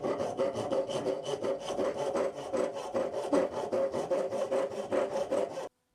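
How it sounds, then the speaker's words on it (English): A hand saw cuts a slot into a wooden tenon for a wedge during a furniture repair, with close, rhythmic back-and-forth rasping strokes, about two per second, that stop abruptly at the end. "All I do is line up my saw on the center of that line and then start cutting."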